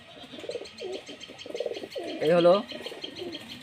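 Talgaram pigeons coo, with a brief, clear cooing call rising out of the middle while someone talks throughout.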